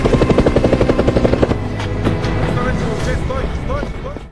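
A film helicopter's rotor thumps in a fast, loud rhythmic chop, then fades into a roaring engine wash with voices calling under it.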